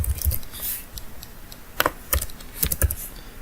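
Someone types code on a computer keyboard in scattered clicks and short clusters of keystrokes, close and fairly quiet, with no voices.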